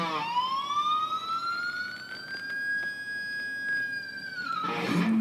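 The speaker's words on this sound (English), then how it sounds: "that's a dime squeal" An electric guitar whammy bar dime squeal rings out as a single sustained high harmonic that bends upward, holds with a slight waver, then drops away, played alone with no talking.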